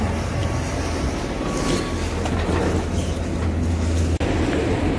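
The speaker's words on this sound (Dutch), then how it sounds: "Tram in Charleroi." A tram in Charleroi rumbles along steadily, a continuous loud rolling and grinding noise with a low hum, heard close from on board without talk.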